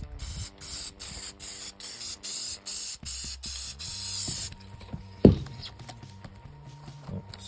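Repeated short bursts of aerosol spray hiss in a steady rhythm, close by, painting a Redcat Everest RC car body, followed by a clatter and quieter handling sounds.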